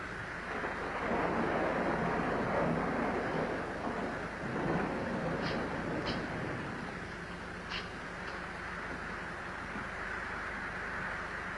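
Steady rain pours throughout a thunderstorm, with a low rumble of thunder rolling beneath it and a few brief sharper cracks near the middle; the wash of sound is broad, continuous and fairly loud, with no talking.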